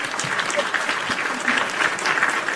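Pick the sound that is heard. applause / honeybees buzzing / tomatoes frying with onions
applause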